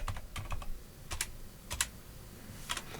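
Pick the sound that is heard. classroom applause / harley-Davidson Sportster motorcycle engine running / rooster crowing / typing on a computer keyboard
typing on a computer keyboard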